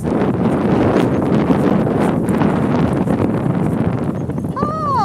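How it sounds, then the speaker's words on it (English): Steady loud wind buffeting the microphone, a constant low roar throughout, with a brief faint chirpy whistle near the end. "Sorry, now it's going to be a bit windy because I'm looking the opposite way."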